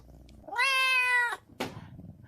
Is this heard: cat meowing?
yes